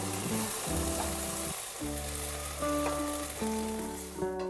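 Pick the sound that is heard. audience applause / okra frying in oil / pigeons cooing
okra frying in oil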